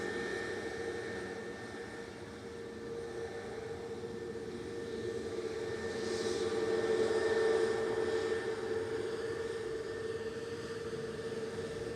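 A Singapore Airlines plane arriving at Manchester Airport gives a distant, faint jet roar with a steady tonal whine, swelling slightly in the middle before easing off.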